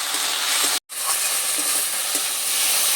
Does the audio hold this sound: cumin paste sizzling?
yes